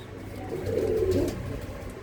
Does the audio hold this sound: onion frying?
no